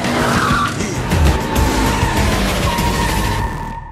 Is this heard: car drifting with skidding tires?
yes